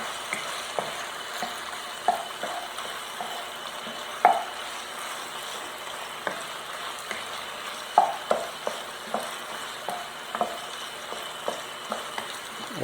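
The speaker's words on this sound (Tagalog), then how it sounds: "haluin ko lang yung niluluto ko guys. Ayan, medyo nagbabrown na siya," Chicken browning in a frying pan sizzles continuously while a utensil stirs it, giving repeated light scraping taps against the pan throughout with no talking.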